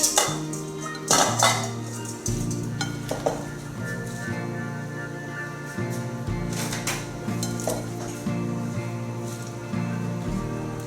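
Spicy shrimp salad ingredients mixed in a bowl, repeated utensil scrapes and light clinks against the dish in a steady stirring rhythm, close and moderately loud.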